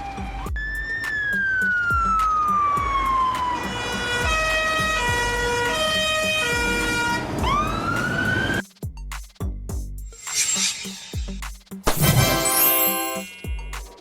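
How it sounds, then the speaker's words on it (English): An airport crash tender fire truck's loud siren wails with a rising and falling tone, then shifts into rapid electronic yelps and bursts over a rumbling engine, close and continuous. "A special fire truck for airports, equipped to spray foam rapidly and deal with airplane fires."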